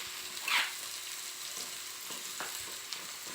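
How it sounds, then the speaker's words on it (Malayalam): Sliced onions salted and frying in oil in a pan for a Kerala tapioca dish give a faint, steady sizzling hiss, with a brief louder stir around the half-second mark. "ഇനി ഗോൾഡൻ നിറം വന്നതുവരെ നമുക്ക് ഇനിയൊന്ന് വറുത്തെടുക്കണം"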